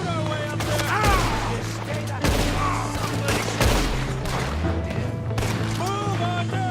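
Rapid gunfire in a Red Dead Redemption 2 canyon shootout, several sharp cracking shots in quick bursts over a steady droning background, with horses and shouting voices mixed in.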